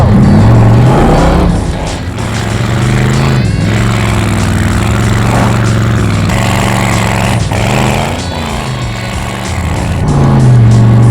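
A Cadillac driving off-road on tires poorly suited to rough ground, its engine droning loud and steady throughout with rising and falling revs and no talking.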